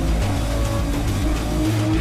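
A race car engine in the video game GRID Legends drones steadily at high revs, with rhythmic pitch shifts as it runs smoothly around the track, loud and continuous with no talk.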